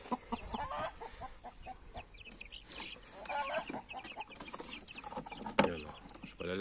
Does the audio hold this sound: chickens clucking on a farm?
yes